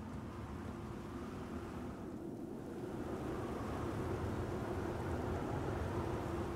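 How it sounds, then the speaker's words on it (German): Steady wind rushing in the Star Wars Outlaws video game, a continuous broad roar that swells slightly louder toward the end, heard alone without speech. "Was ein Wind."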